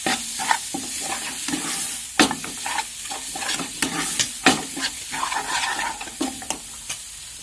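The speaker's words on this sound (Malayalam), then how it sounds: "ഇത് നല്ല 2 മിനിറ്റിലൊന്ന് നല്ലപോലെ സോട്ട് ചെയ്യണം," Chopped tomatoes sautéing in a pan for Kottayam-style pepper chicken, sizzling steadily under repeated loud spoon scrapes and knocks against the pan, close by, with no talking.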